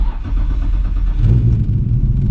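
A Nissan Skyline GT-R R32 engine idles with a deep, throaty rumble, then its note rises slightly as it revs, loud and close.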